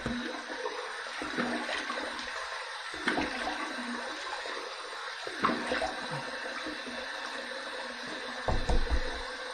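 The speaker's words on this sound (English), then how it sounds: "let's just rinse the face with some warm water" Water splashes and runs from a tap in bursts, with hands scooping and rinsing close by; quiet and intermittent, no talking.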